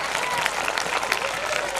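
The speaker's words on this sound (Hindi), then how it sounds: "जो करते हैं बेटी से प्यार, वो कैसे करेंगे तालियों से इनकार। जोरदार तालियां।" Loud applause and clapping from an audience at a school annual function, dense and continuous throughout without a break.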